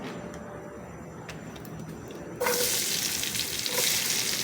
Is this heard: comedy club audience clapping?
no